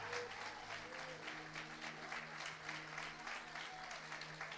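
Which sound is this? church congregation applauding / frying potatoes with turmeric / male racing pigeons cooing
church congregation applauding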